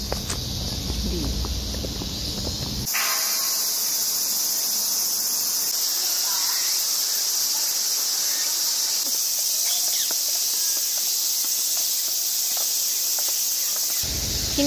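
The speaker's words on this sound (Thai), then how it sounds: "แล้วก็เสียงจิ้งหรีดคือดังมากจริงๆ" Dense, continuous cricket chirping fills the air in Tokyo, loud and steady, with a few faint rustles and soft steps near the start.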